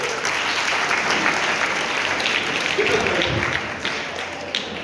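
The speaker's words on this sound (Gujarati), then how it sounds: "તો આ બધા આયોજકોમાંથી તમારી સાત ચોવીસી માટે જૈન સંસ્થા માટે એક વખત જોરદાર તાળી." A dense, loud burst of audience applause at a Jain community gathering, many hands clapping at once in a continuous roar that holds steady throughout and tapers slightly at the end.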